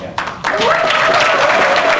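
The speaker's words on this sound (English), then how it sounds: "give yourselves a round of applause" Applause breaking out from the audience at a mayor's swearing-in ceremony in Warren, Michigan, starting after a brief voice and rising into a steady, dense clapping that continues to the end.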